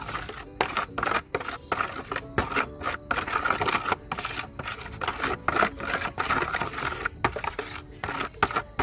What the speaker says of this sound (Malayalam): നമ്മുടെ തൈരും കായപ്പൊടിയും മഞ്ഞളും കൂടെ നല്ലതുപോലെ മിക്സ് ചെയ്തെടുക്കാം